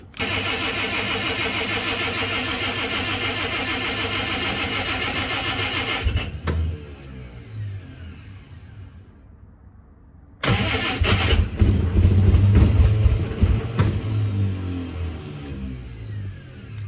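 A cold car engine cranks over and over reluctantly, cuts out into a brief silence, then catches and fires into a loud, rough idle.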